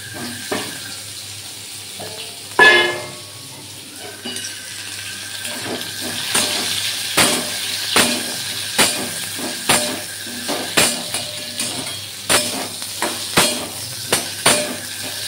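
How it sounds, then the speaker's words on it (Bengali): Panch phoron spices fry with pumpkin and okra in a pan as they are stirred, a steady hiss broken by a regular series of sharp scraping strokes, with no talking. "ফোড়নের সঙ্গে কুমড়ো ঢ্যাঁড়সটাও কিন্তু আমি একটু দিয়ে নেড়ে নেব।"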